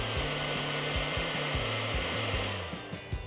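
A blow dryer runs on high fan while powered by a portable solar generator, a loud steady whirring roar with rhythmic low pulsing, easing slightly near the end.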